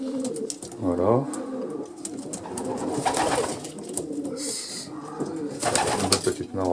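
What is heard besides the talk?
pigeons cooing in a pigeon loft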